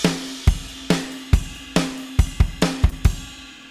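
Drum track with punchy kick and snare hits in a steady groove, a tonal ringing snare and a quick fill of closely spaced hits near the end, clear and unaccompanied.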